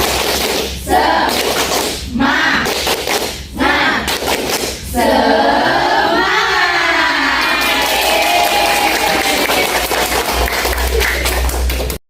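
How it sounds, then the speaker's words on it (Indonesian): A classroom group performs the rhythmic tepuk semangat clap routine with loud, punchy claps in a patterned beat. Voices chant and shout along, and the group then breaks into excited cheering and noisy crowd sound. "Tepuk semangat"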